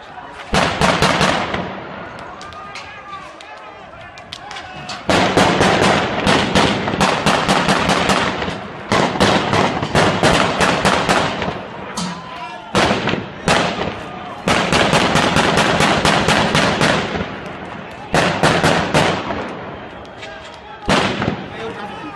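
Gunfire during a shooting in Nogales, with long strings of loud, rapid cracks in repeated bursts, some close together like automatic fire, echoing outdoors with brief quiet gaps between volleys.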